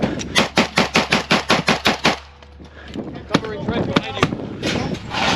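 Gunfire in real combat: a rapid string of about ten loud, evenly spaced close shots, then scattered single cracks over a rough wind-buffeted background with voices talking.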